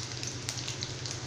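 Urad dal, garlic and small pieces of ginger fry in a pan for Kathamba chutney, giving a close, steady sizzle with faint crackles.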